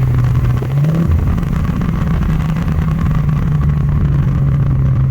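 An Infiniti G37 sedan with an ISR full exhaust gives a loud, deep, steady rumble, with a brief rev blip as it downshifts, heard close by.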